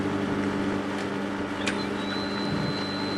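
A pool heater fired by electronic ignition runs with a steady, broad roar and low hum, a faint high whine entering partway through, close and continuous with no talk.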